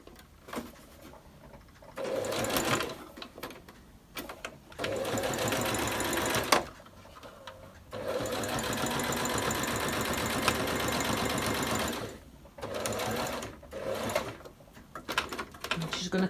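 A sewing machine stitches around the seam of a homemade fabric face mask. The whirring comes in several close, loud bursts separated by short quiet pauses.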